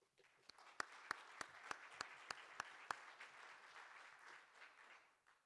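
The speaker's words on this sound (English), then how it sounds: "Could we have another round of applause for our guest?" A conference audience gives a round of applause for a guest at a civic event in Indianapolis, steady clapping from many hands with a few sharp nearby claps standing out, fading away at the end.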